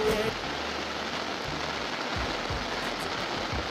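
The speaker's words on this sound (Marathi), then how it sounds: "पाऊस येतोय, पाऊस" Rain pours at a flooded 22 kV electrical substation yard, a dense steady outdoor hiss with faint low thumps underneath.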